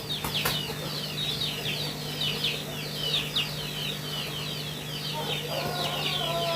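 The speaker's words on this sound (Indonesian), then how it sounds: "ini ada ayam yang mau bertelur guys kayaknya ya" A hen clucks repeatedly in a rhythmic series while searching for a nest to lay an egg on a small home farm. The clucking sits against steady hum and background farmyard noise, with no talk.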